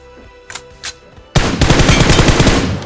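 Loud close bursts of rapid automatic gunfire in PUBG Mobile, following a couple of brief isolated shots, then a sustained rattling volley with no talk.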